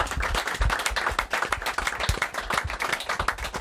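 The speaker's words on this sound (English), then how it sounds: "Well, give him a round of applause." Small audience at a football-themed show clapping for a Player of the Week, sharp individual claps clearly audible in an uneven, lively patter close by.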